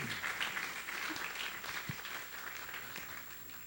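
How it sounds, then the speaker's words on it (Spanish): Audience applause at a forum on the situation of children in the State of Mexico, soft and fairly distant clapping that holds steady at a low level throughout. "de la licenciada Maribel Chávez González, para quien pido un fuerte aplauso, por favor."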